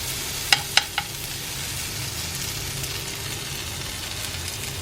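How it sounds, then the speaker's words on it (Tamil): Spot idli cooks in butter in a pan on a low-flame stove, with a steady soft sizzle throughout and a couple of sharp utensil clinks near the start. "இதை வேகிறதுக்காக கூட கொஞ்சம் பட்டர் சைடில் ஆட் பண்ணுறேன்."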